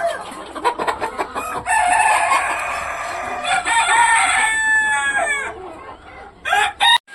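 A rooster crows loudly several times in long, drawn-out calls, with a few clucks and short calls between them.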